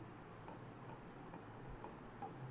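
Marker or chalk writing out a definition on a classroom board, a series of short scratchy strokes in bursts over a steady low room hum, fairly faint with no talking.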